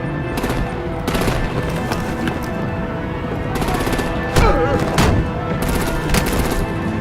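Rapid bursts of machine-gun and rifle fire from the video game Batman: The Enemy Within, crackling in repeated volleys with heavier booming shots mixed in, loud and dense across the whole stretch with no voices.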